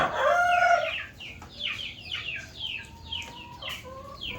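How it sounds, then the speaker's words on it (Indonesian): Free-range village chickens call in a yard: a rooster crows loudly up close, followed by a series of scattered clucks and shorter calls from the flock. "karena aku punya ayam kampung banyak banget, punya si emak, jadi daripada beli kita potong aja ya"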